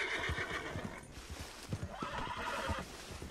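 Horse in Red Dead Redemption 2 whinnying in two drawn-out neighs, with hooves clip-clopping rhythmically underneath, fairly close but quiet.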